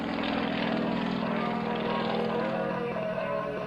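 A Yak aerobatic airplane fitted with a smoke system flies at an air force base open house air show, its steady propeller engine drone continuous and fairly loud throughout.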